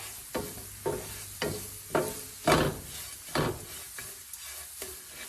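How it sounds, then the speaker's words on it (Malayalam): Ash gourd mixture with mustard seeds stirred in a pan, a regular series of about nine scraping strokes over a low sizzle, close and clear. "അതിനുശേഷം ഇത് നന്നായിട്ടൊന്ന് ഇളക്കി മിക്സ് ചെയ്യുക"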